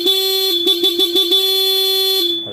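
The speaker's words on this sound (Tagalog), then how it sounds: "Stock horn." Stock horn of a Honda ADV160 scooter sounds several times: short honks, then one long sustained blast, loud and close with a bright, steady electric tone and no talking.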